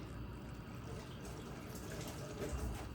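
Hot water pours steadily into a container, a continuous splashing stream at close range with no talking.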